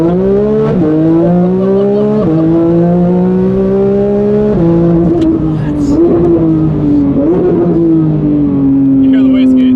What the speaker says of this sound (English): You hear the wastegates?